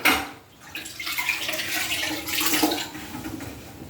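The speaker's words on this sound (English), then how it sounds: "See that run? That's the extra water in the sponge." Excess water runs and splashes from a grout sponge during tile grouting in a shower, with uneven bursts of trickling and dripping, close and fairly loud, alone without talk.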